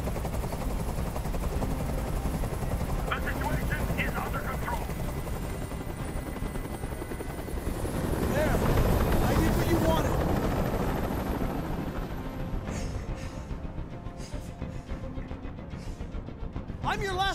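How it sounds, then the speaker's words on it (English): A helicopter in the video game Detroit: Become Human drones loudly with a thudding rotor, swelling as it passes overhead, then fading slightly, mixed with bursts of distant gunfire and electronic effects. "I can't stand that noise anymore. Tell that helicopter to get out of here."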